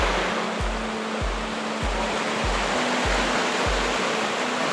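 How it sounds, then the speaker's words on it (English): Waterfall at its top in New Zealand's North Island, a loud, constant broadband roar of falling water that fills the whole clip, with faint regular low thumps underneath and no talking. "We are at the beginning of the waterfall."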